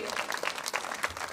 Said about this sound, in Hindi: मैं चाहूंगी एक बार जोरदार तालियां हमारे सोप वॉश के लिए